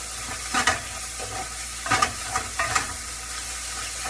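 Rice sizzles and crackles in butter in a hot pan, with a few louder stirring scrapes and bursts of spatter over a steady frying hiss.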